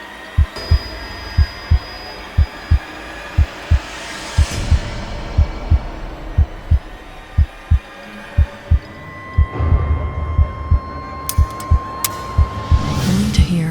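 A racing heartbeat effect thumps in a steady, fast rhythm of deep, close beats over a dark, droning ambient bed that swells and adds a high tone toward the end.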